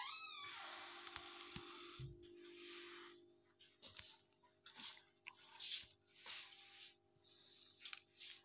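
A talking parrot imitates a cat's meow over a steady hum, with scattered soft clicks and noises around it.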